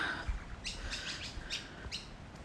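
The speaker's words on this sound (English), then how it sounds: "There's a couple more magpies down here." Magpies call on the coast at dawn, a few faint, short chirping notes repeating at a distance in a quiet outdoor setting, with no talking.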